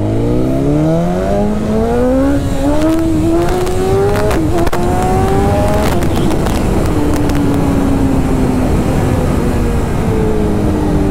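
A BMW S1000RR revs hard and climbs in pitch through several rising gear pulls, loud and close, then holds a high, steady drone.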